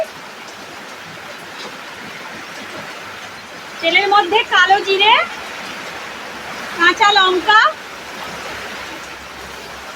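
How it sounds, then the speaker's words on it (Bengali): Heavy rain falls steadily outside a home kitchen with a clay stove, a continuous broadband wash running the whole time while someone speaks over it in two short bursts. "বাইরে প্রচণ্ড বৃষ্টি শুরু হয়েছে"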